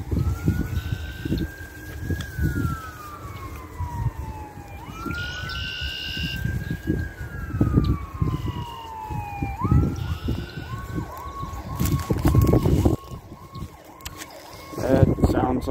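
An ambulance siren wails repeatedly in rising and falling sweeps, heard from a park during a morning dog walk, with wind noise and someone talking over it.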